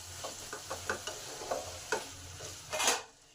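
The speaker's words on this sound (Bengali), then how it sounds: "নুন আর হলুদটাকে ভালোভাবে আলুর সাথে মিশিয়ে দিলাম।" Boiled potatoes get stirred and mixed with salt and turmeric in a hot pan, a quick run of scraping strokes over a faint sizzle, ending in one longer, louder scrape.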